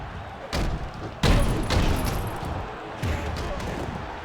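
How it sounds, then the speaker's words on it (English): Heavy thuds from in-ring impacts during a Wrestling Empire match, with a few separate slams landing at uneven intervals, the loudest midway, under a commentator's voice. "Ryan Schneider drop kick to Gargantua and Gus."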